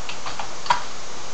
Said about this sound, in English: Typing configure, terminal